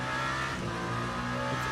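Toyota GR010 race car accelerating hard out of a corner at Circuit of the Americas in Le Mans Ultimate, a loud steady engine roar with layered harmonic whine holding close and continuous throughout.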